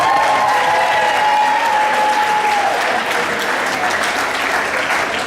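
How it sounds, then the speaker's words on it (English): Banquet guests at a band's awards night give a full, steady round of applause, a loud crowd of clapping hands sustained evenly throughout. "let's have a round of applause for Lucy Ekman"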